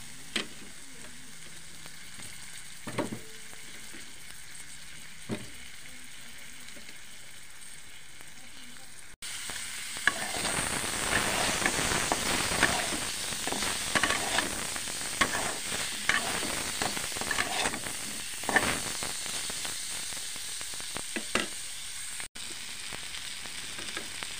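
Vegetables with turmeric sizzle in a pan for cabbage and hilsa fish: a quiet stretch with a few clicks gives way to loud, crackling frying with scraping stirs, fairly close, and no speech over it.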